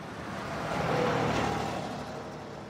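A car pulling away in a children's story about a little rabbit heading to the beach with his grandparents, heard as a steady engine that swells to a peak around the middle and then eases off, alone with no talk.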